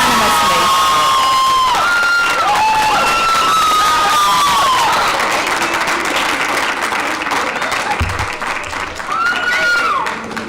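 An audience at a school board meeting applauds and cheers loudly for several seconds, with whoops and shouts rising over sustained clapping that eases slightly toward the end.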